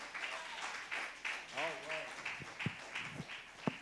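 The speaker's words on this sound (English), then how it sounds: "Let's give God a clap of praise" A church congregation claps in praise to God, a rhythmic patter of hands spread through the room, with voices calling out over it.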